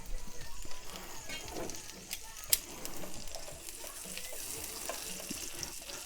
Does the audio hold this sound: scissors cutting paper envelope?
no